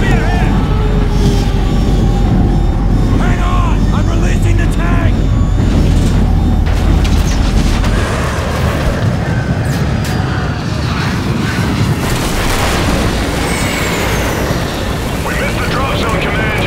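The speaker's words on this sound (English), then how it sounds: "We're under heavy fire, Command!" Heavy combat in Call of Duty: Ghosts, with a dense continuous roar of gunfire, booming explosions and rumbling aircraft, loud and unbroken throughout, while voices shout over the battle.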